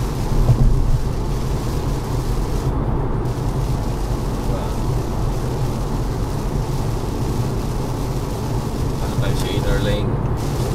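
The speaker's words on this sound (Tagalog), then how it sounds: "Lakas ng ulan sa banda dun ha." Heavy rain pounding on a moving car, a dense continuous roar of water and road noise from inside the cabin, with a dull rumble underneath and no clear voices.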